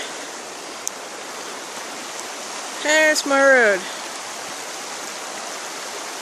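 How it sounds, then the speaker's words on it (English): A creek runs steadily where it crosses a road, a continuous broadband rush of flowing water that fills the scene, with a brief spoken remark briefly rising over it midway. "There's the creek where it crosses."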